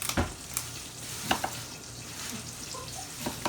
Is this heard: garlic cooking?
yes